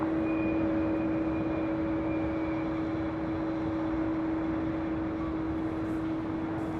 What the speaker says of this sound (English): This is flight 585 in this A321neo, originally with Virgin America, delivered to them in May of 2018.